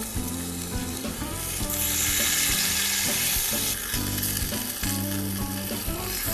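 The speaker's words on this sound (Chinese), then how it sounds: "就是煎到整个的表皮都是硬的" Meat pan-fries with salt and black pepper in a pan, a loud continuous sizzle with bursts of crackling and spatter throughout, with no voices.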